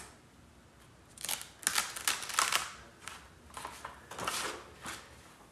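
Material being peeled back to reveal a painted pattern, crisp tearing and crackling bursts close up, in several uneven pulls separated by brief pauses.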